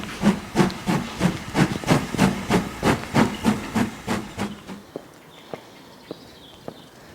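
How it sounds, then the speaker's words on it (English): A steam locomotive pulls out of Grange-over-Sands station with loud rhythmic chuffs, about a dozen strong exhaust beats that fade away, followed by a few faint clanks against quiet background. "pure sound of some steam engine pulling out of the Grange station"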